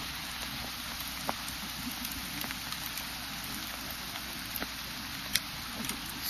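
Hail suddenly falling outdoors: a faint, steady patter with scattered sharp ticks of pellets striking surfaces.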